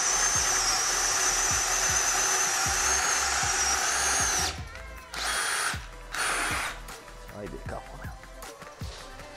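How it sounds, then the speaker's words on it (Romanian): DeWALT DCD791/DCD796 18V XR brushless cordless drill in first gear boring with a 68 mm hole saw, a loud steady whine with knocking, then stopping and restarting in short bursts as someone speaks. "Aici trebuie să-i dau viteza 1 pentru că este freză cu șurub."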